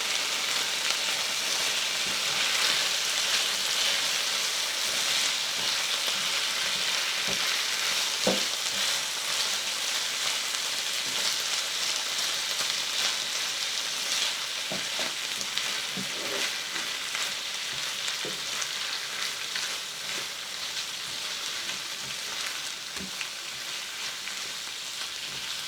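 Steady sizzling of Swiss steak sautéing in a pan with occasional scrapes and knocks of stirring, continuous and fairly loud throughout, with no talking.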